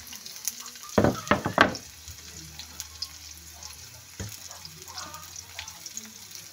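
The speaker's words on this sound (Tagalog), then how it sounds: "isunod na rin natin yung bawang at saka sibuyas" Garlic and onion drop into a pan with ginger for coconut-milk kamansi, setting off a brief loud crackling burst, then a low steady sizzle with an occasional stirring click.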